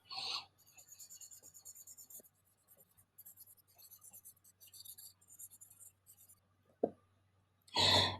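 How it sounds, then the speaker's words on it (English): A pencil point is filed at an angle in quiet, close rasping strokes that come in short runs with gaps between them. A sharper rustle opens and closes the sequence. "Make sure that when you're filing it, you maintain the point."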